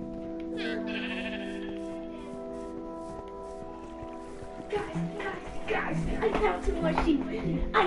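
Sheep bleating in Minecraft, with a sustained musical drone beneath, growing busier and louder toward the end amid overlapping calls.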